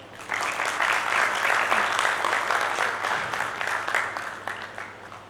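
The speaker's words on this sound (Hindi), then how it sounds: "बोलिए, ताली बजा सकते हैं" Audience applause at a spiritual discourse session in Palitana, steady dense clapping from a crowd lasting several seconds with a low hum underneath.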